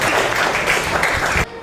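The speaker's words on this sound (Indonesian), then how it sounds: "tepuk tangan semuanya" A classroom of students bursts into loud, dense applause at the start of a lesson, the clapping sustained and even before cutting off abruptly near the end.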